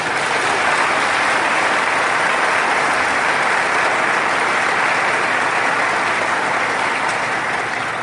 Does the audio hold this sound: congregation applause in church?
yes